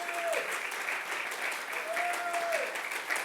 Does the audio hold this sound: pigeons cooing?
no